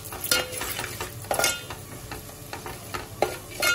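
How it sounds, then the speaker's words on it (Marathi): Ground spices, garam masala and turmeric among them, sizzle in hot oil for a prawn gravy while a spoon scrapes and stirs the pan in repeated close strokes, with a soft frying hiss underneath. "हे सगळे मसाले या तेलात चांगले मस्त पैकी भुजले शिजले"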